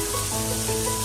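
Chopped ingredients for an aloo bonda filling sauté in a hot pan, giving a steady, close hiss of frying with no talking over it.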